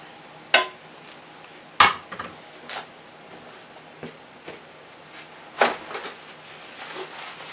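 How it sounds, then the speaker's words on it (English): A metal cooking pan comes out of storage and is handled in a home kitchen, giving several sharp clanks and knocks spaced a second or more apart, with softer clinks in between, close and with no voices. "now I want to get my pan"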